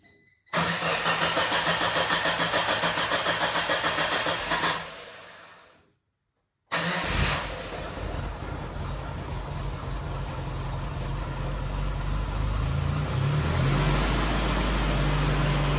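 A Geo Tracker raised on jack stands cranks over and catches, its mid-pitched engine then settling into a steady, loud idle that runs close and continuous after a brief pause.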